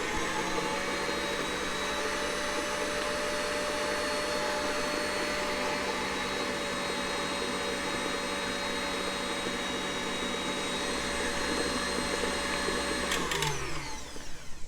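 An electric mixer runs on high, whipping chocolate mousse cheesecake filling in a steady, loud motor whine, then spins down near the end, with no voices.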